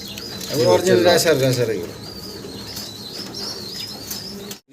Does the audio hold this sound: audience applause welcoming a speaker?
no